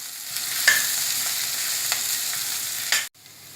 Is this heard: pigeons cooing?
no